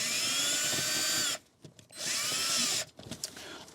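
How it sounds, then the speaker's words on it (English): A power drill whirs in two long, steady bursts separated by a brief pause, close by, with some clicking and handling noise between runs, removing bolts on a Ford Focus Mk2 during a windscreen washer pump replacement. "I'm going to get out as many of these bolts as possible with the drill"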